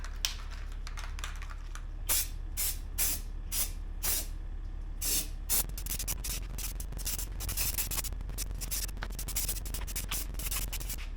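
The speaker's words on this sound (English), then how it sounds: "now I'm going to use some of this Rust-Oleum, this platinum truck red spray." A steady hiss from a spray paint can with a series of short bursts and rubbing noises, fairly close, continuing for several seconds.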